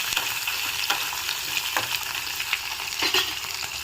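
Dried fish frying in hot oil in a pan, with a steady, dense crackling sizzle and occasional sharper pops or stirring scrapes, close and continuous throughout.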